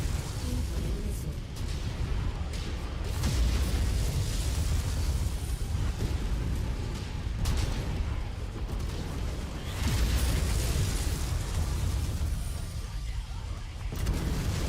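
Missile explosions in a giant mech video game form a continuous loud, rumbling barrage of booms and bursts with mechanical noise, sustained without pause.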